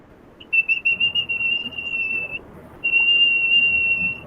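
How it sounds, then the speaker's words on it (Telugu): Two long, steady high-pitched whistles are made through pursed lips in a crow-style yoga breathing exercise, the first held about two seconds, then a short pause before a second equally sustained, clear whistle; no speech over it. "కాకి ప్రాణాయామం అంటే విజిల్ వేయడం అని చెప్పుకున్నాం మనం."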